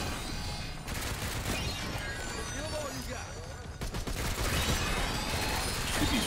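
Floating cubes firing in Fortnite: rapid, rattling bursts of gunfire crackle in clusters, fairly faint and set against a continuous noisy game background.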